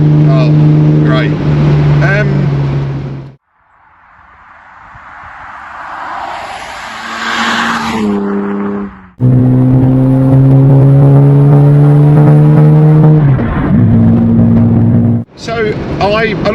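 A sports car accelerates hard on a road, its engine roar swelling loudly for several seconds between stretches of close conversation in the cabin.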